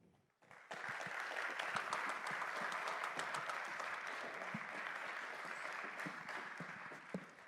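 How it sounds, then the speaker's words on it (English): An audience breaks into applause to welcome panelists at a NewSpace panel discussion, with sustained dense clapping starting abruptly and continuing steadily to the end. "would you please just give a big round of applause as we welcome through our panelists"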